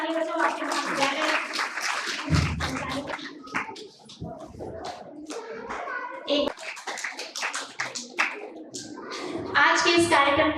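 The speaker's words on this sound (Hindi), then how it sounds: "बच्चों जोरदार तालियां बजाओ।" Children at a school event welcoming guests clap loudly in ragged bursts, with voices and chatter mixed in throughout.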